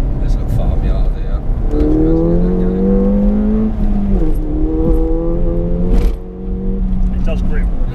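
A Ford Fiesta ST200 engine rises in pitch through two pulls on a country road near a farmyard, heard from inside the car with voices talking over it.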